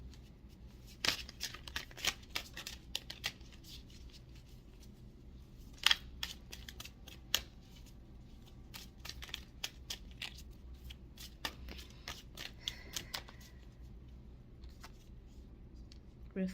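A deck of tarot cards being shuffled by hand at close range: quiet, repeated papery riffles and soft card taps in irregular bursts over a hushed room background.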